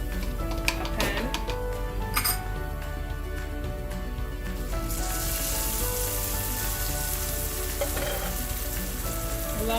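A yogurt paste with tomatoes hits a hot pan for mutton biryani, bursting into a loud, close, hissing sizzle that swells and stays steady, with a few scraping stirs early on.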